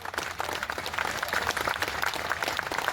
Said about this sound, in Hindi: साथियों, एक ताली आपके तरफ से जोरदार होना चाहिए।